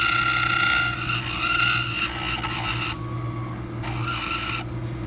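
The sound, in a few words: trimming a denture reline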